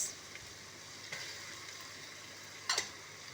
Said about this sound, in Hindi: इसको अच्छी तरह से करेंगे हम फ्राई, और इसके साथ ही मैं इसमें ऐड कर दूँगी